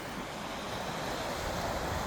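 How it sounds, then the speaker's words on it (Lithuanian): Small, calm Atlantic Ocean waves on the Irish coast wash in a soft, continuous surf hiss, fairly faint and steady, with a little wind noise and no talking. "Vandenynas palyginus ramus,"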